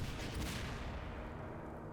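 A grenade explosion effect from a customizable explosions mod in Garry's Mod using Day of Infamy effects, a single broad rumbling blast that starts loud and slowly fades over two seconds.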